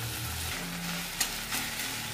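Green chili pieces fry in a little oil in a pan, giving a steady soft sizzle with a light clink or two of stirring.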